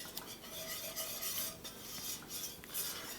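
Flour is stirred into bubbling melted butter in a pan to make a roux for mac and cheese béchamel, heard as continuous scraping and light clinking of a utensil against the pan with a soft sizzle and no voices.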